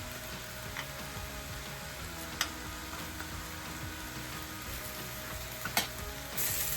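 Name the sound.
cashews added to a frying pan, sizzling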